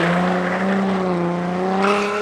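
Cars drift and thrash around a race track with a loud sustained engine drone and rising revs, heard close and continuous with a slight tire edge.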